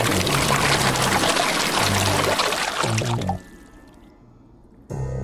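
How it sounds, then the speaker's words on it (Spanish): Water pours onto a character in The Darkside Detective 2, a loud, gushing splash for about three seconds that cuts off abruptly, followed by a quiet pause and a brief final burst. "Ah, claro, le cae el agua encima."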